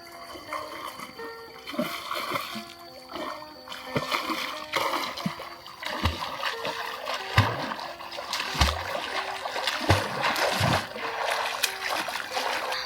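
Water splashes and sloshes steadily while someone plays and floats in it outdoors, with dull thumps and trickles throughout, close and moderately loud.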